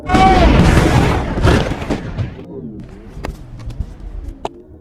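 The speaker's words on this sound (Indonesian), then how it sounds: "David langsung keluar sebelum bom itu meledak" A time bomb explodes inside a hideout in an action film, a loud, dense boom with debris roar for the first second or two, then a fading rumble and scattered small impacts afterward.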